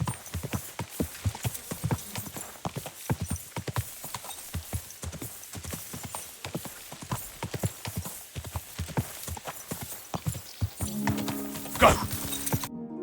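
Steady clip-clop of a horse's hooves in Kingdom Come: Deliverance II, a close, rhythmic trot of many evenly spaced strikes, ending with a brief neigh over a swelling tonal note.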